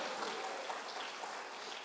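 A church congregation claps together during a worship service, a faint, even wash of applause with no break.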